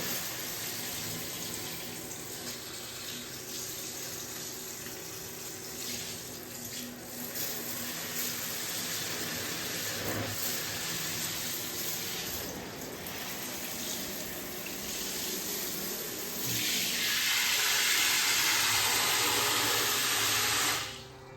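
Continuous hiss of water spraying from a small portable battery-powered shower head, steady and close, growing brighter and louder toward the end before cutting off.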